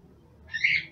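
A pet bird gives a single short, sharp high call, loud and close, after a brief quiet moment.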